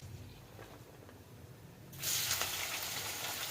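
Cloves, cinnamon and bay leaf sizzle in hot oil, first as a soft murmur and then as a loud, steady hissing fry for a Telugu-style country chicken curry.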